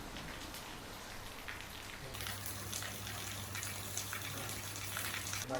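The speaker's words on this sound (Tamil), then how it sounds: "லைட்டாக தான் தூரிச்சு கடைசியில் பார்த்தா இவ்வளோ பெரிய மழையாயிடுச்சு" Heavy rain pouring down after a light drizzle, a dense continuous hiss of drops on surfaces that grows louder partway through and stays steady.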